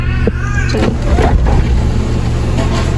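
A Honda Civic EK engine runs steadily at close range, a constant low rumble with faint tonal whine above it and brief mechanical clicks, with no voices.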